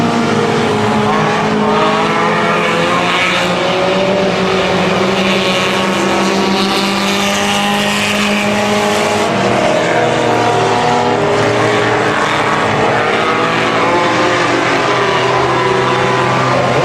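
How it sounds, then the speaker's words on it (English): Race cars circling a speedway make a loud, continuous engine drone whose pitch rises and falls as they pass, with no talking over it. "Turn number 4, your race winner is going to be last week's feature winner, Dan Remus"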